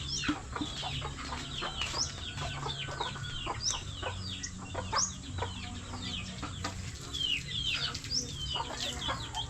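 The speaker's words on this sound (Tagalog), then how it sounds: "Manok." Chickens clucking and chattering steadily, several birds close by, with sharp high calls scattered throughout over a low farmyard hum.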